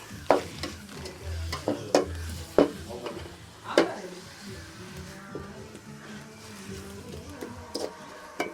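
Sliced onions sauté with salt in a pan as a spatula scrapes in sharp, uneven strokes over a low, steady sizzle, heard up close.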